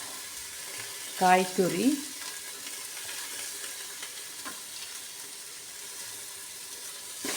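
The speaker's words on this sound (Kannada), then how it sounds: "ಈರುಳ್ಳಿ ಅಷ್ಟನ್ನ ಫಸ್ಟ್ ಫ್ರೈ ಮಾಡ್ತಿದ್ದೀನಿ." Garlic, pepper and onion frying in a pan with a steady low sizzle, broken briefly by a short louder clatter of stirring, as a voice speaks a few words.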